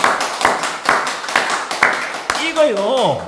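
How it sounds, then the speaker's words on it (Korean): A church congregation claps in a steady rhythm of loud, evenly spaced claps, close and forceful, while a voice carries on over the final beats. "우리 하나님께 박수로 영광 돌리겠습니다"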